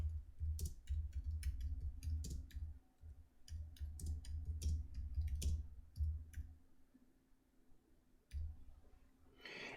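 Typing a prompt on a computer keyboard, quick bursts of close light key clicks in uneven runs with short pauses, over a low steady hum.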